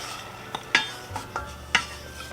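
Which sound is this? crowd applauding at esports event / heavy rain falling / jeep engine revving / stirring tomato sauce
stirring tomato sauce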